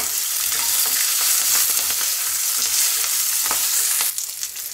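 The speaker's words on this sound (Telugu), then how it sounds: "పచ్చిమిరపకాయలు, జీడిపప్పు ఇవన్నీ కూడా బాగా వేగాలండి" Green chillies, cashews and curry leaves frying in hot oil give a loud, dense, continuous sizzle close by, with faint stirring clinks and a slight drop in intensity just at the end.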